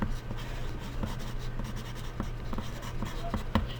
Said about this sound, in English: the first thing that I want you to do on the back of your artwork is write your name.